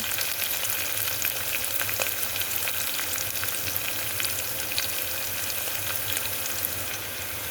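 Onion and curry leaves fry and get stirred in a hot pan, a dense, steady sizzle running the whole time with occasional scrapes and small crackles, loud and close, no voices.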